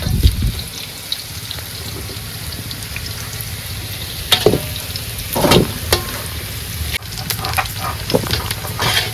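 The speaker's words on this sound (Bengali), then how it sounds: "তেল হয়ে গেছে মাংসের আলুটা ভেজে নেবো" Potatoes frying in hot oil for a goat meat curry, a steady sizzle close by with scraping stir strokes and a few sharper clatters of a utensil against the pan.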